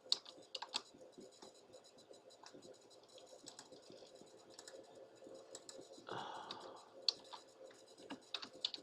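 Keys clatter in quick irregular bursts as an equation is typed into an online graphing calculator, light clicks running steadily with a brief rustle partway through, fairly faint and close.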